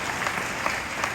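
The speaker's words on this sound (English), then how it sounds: "Give yourself a big round of applause." Keynote audience at the AWE 2021 conference applauding, a brief, even wash of many hands clapping at a moderate distance.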